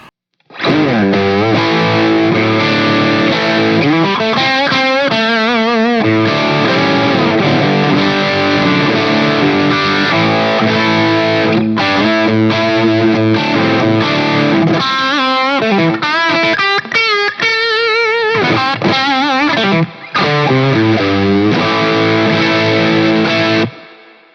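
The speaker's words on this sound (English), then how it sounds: "let's check it out with some drive tones" Heavily overdriven electric guitar on the bridge pickup plays continuously up close, a thick distorted tone with chords and riffs and no talking.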